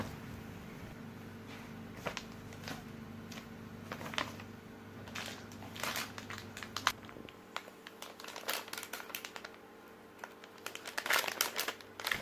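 Crinkling plastic packaging around an AVR SX460 automatic voltage regulator for a brushless genset, unwrapped up close in repeated crackling bursts that grow denser and louder toward the end, with no talking.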